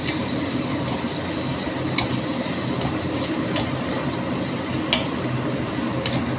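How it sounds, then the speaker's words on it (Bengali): Chopped onions frying in a pan over low to medium gas, giving a steady close sizzle with a few sharp clicks of a spatula stirring against the pan. "পেঁয়াজ কুচি দিয়ে গ্যাসটাকে একটু লো লো টু মিডিয়াম মানে নিচের দিকে করে ভাজাভাজি করছি"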